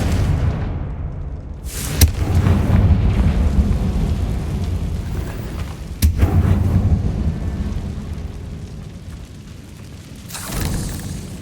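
A Confringo blast spell explodes in a Harry Potter video game, with two sharp booming blasts about four seconds apart over a dense, rumbling low roar, followed by a softer burst near the end.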